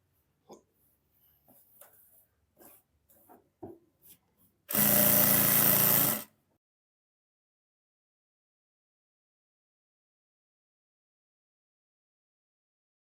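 A sewing machine runs in one quick, loud burst of about a second and a half, stitching an Afghani salwar pouch, after scattered soft handling clicks and rustles, then silence.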